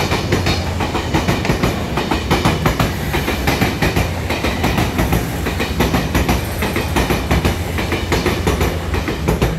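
A nine-car DR3100 diesel multiple unit Tze-Chiang express passes through Ruifang station in Taiwan, loud and close, with a steady rumble and continuous clickety-clack of wheels over rail joints throughout.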